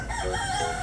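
A young rooster crows once in a backyard among native chickens, a short, fairly close call that stands alone without talk.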